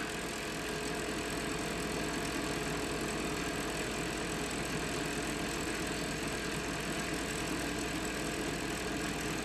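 A StarShip motor runs with anti-cogging at increased speed, giving a steady, continuous hum with faint rattling texture. The sound holds evenly throughout with no talk.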